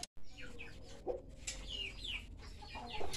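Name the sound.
Bangkok rooster being held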